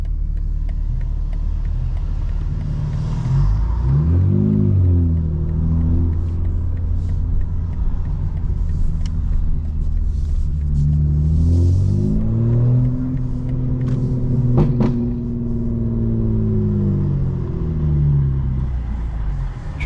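A tuned 2025 BMW M4 Competition drives through city traffic, its engine a loud, constant low drone inside the cabin that swells twice as it revs up through the gears.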